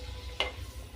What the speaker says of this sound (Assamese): এতিয়া ইয়াত পিঁয়াজটো দি দিম।